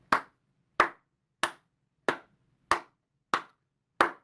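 Seven sharp, evenly spaced hand claps, roughly two-thirds of a second apart, ring out loud and close in an otherwise quiet space with no talking.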